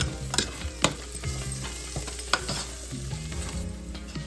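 Coriander leaves and mint frying and being stirred in a pan while cooking Chennai-style mutton biryani: a soft continuous sizzle broken by several sharp scrapes and clanks of a spoon against the vessel, close and fairly quiet.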